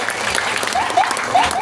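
A crowd claps during a temple performance at a Balinese religious ceremony, brief loud applause with voices calling out over it.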